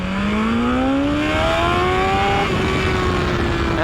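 BMW S1000XR motorcycle pulling hard in first gear for a power wheelie, engine note climbing steadily in a loud, close, continuous rising whine with harmonics sweeping upward, then settling at high revs.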